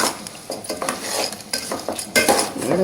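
Spoon stirring a veg pulao mixture with salt in a pot, giving repeated close scraping and clinking strokes in an irregular rhythm, fairly loud, with no talk.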